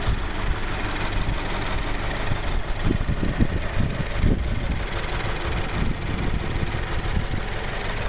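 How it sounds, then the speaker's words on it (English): A 2013 Subaru BRZ boxer engine idles with a steady low rumble, continuous, with a faint uneven throb underneath and no voices. "Got the boxer engine that they're famous for."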